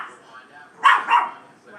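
A small dog barks twice in quick succession at close range, sharp and loud against a quiet room, with faint softer sounds before and after.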